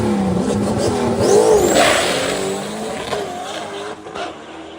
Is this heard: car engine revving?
yes